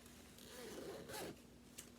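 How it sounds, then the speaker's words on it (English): A zipper on a crocheted, lined bag is pulled in one quick, soft rasping stroke, close by and faint, with no talking over it. "And it's zippered."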